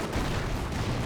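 Artillery barrage in Company of Heroes 1, a World War II strategy game: a brief, dense wash of distant shell fire and rumbling booms, steady and moderately faint, with no talk.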